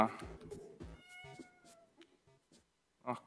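A cat meows in a student game-jam video game, its short tonal cries mixed in with someone talking.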